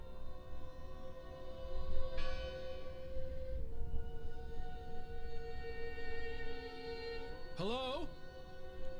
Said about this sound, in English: I heard the bell.